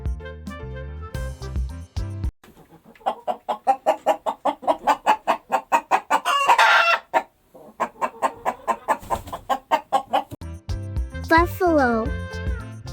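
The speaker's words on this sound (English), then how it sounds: "Chicken." A chicken clucks in a rapid, rhythmic run of close, loud calls, pausing briefly before further bursts, with a higher squawk near the end; music plays along with it on a farm animal sounds track.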